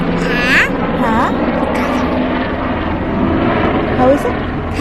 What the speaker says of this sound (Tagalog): It's an helicopter.